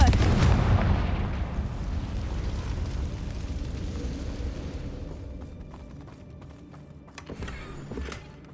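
The Confringo spell in the video game Hogwarts Legacy sets off a loud, booming explosion whose rumbling blast slowly decays. A smaller crackling burst comes near the end.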